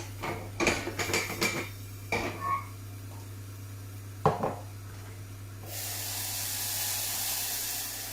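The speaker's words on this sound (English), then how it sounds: "Just sweat them down a little bit longer." Salted onions sweating in a pan give a broad, steady sizzle that comes in midway and holds to the end, after a few scattered clinks and taps of kitchen utensils and a hum in the background.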